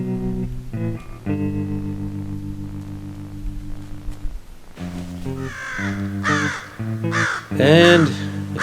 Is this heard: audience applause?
no